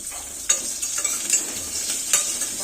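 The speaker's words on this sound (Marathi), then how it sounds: "आता आपण हा ठेचलेला लसूण त्याच्यात टाकून घेऊया." Crushed garlic fries in hot oil with green chillies for a dal khichdi tempering, a bright crackling sizzle punctuated by several sharp spoon taps and stirs against the pan, close up and without speech.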